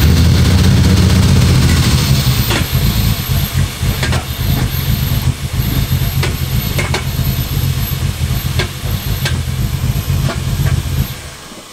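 A Ford EF Falcon with a turbocharged Barra engine starts for the first time and runs, a loud low engine rumble with hissing, slightly uneven idle, and sharp bursts before it cuts off near the end.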